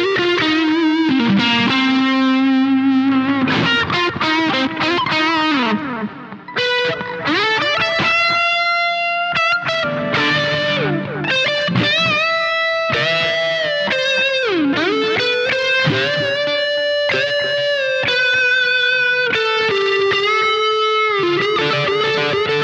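An electric guitar run through Valeton BD-10 and DS-10 pedals with delay plays warm, sustained distorted phrases, each note echoing and blending into the next over a long continuous passage, with no talking.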